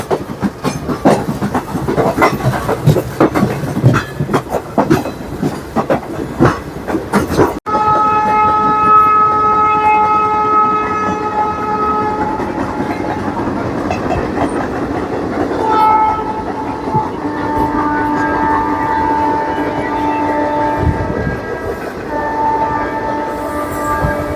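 The Netaji Express rumbles past with rapid clattering wheels, then a long, loud horn sounds repeatedly as the cars keep rolling by.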